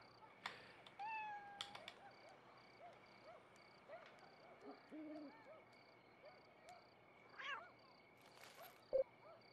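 A cat meows in the Halloween video game Costume Quest, a few short calls standing out over a quiet ambient game backdrop with occasional soft hoot-like tones.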